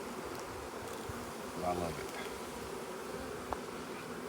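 Honeybees of Caucasian genetics hum steadily from an opened hive frame in a bee yard, a continuous close buzz with a brief voice over it midway.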